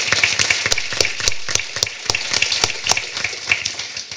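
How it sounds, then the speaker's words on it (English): Modest audience at a civil service town hall clapping in a steady patter of sharp, individual hand claps, fairly close and without talk. "please, a warm round of applause for our moderator,"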